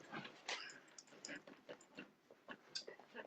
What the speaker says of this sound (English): there's a dog that is back